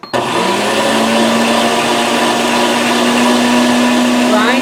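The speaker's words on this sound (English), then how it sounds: "here is my grinder, and I have a medium grinding blade on there" An electric meat grinder fitted with a medium grinding blade, grinding holiday-style sausage meat, starts abruptly and then runs as a loud, steady motor whine with a constant hum throughout.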